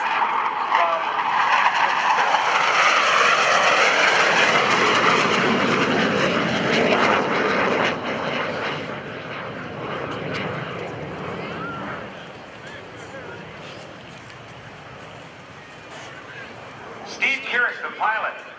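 A McDonnell Douglas A-4 Skyhawk jet roars loudly past at the 2011 NAS Oceana airshow, a broad sustained engine rush that fades gradually toward the end, with a commentator talking throughout.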